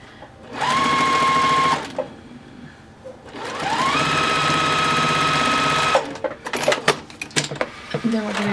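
A sewing machine stitches 2½-inch fabric strips in two close, loud runs. Each run is a whirring hum that climbs in pitch as the motor speeds up, followed by scattered clicks and handling sounds.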